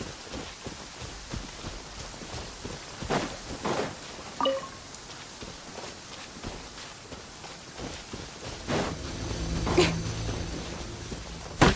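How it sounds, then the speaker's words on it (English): Steady heavy rain in Genshin Impact hisses throughout, with occasional louder splashes and rumbles rising near the end. "Quite a downpour."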